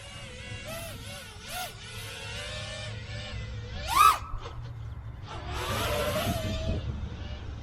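A rebuilt Skitzo Nova 5-inch FPV quadcopter on HQ 5x4 props hovers at about a third of throttle over a landing pad. It gives a steady buzzing motor whine at moderate distance, with brief talk in places.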